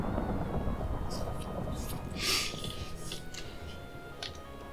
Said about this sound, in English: I wonder whether I can sleep this storm away,